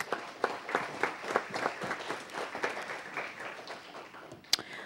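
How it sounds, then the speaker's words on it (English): A council meeting audience gives a round of applause, a moderate scattered clapping that carries on steadily and fades near the end with a final sharp clap. "Everyone, please give him a round of applause as well."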